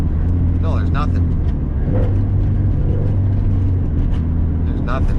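A 500hp Subaru STI with a very loud exhaust, giving a deep steady rumble from inside the car with slight revving changes, while someone talks over it.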